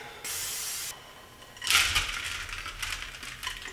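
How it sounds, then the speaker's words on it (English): A short hiss of cooking spray onto a metal cookie sheet, followed by clattering and rustling as the sheet is handled nearby. "Now we're gonna spray a cookie sheet."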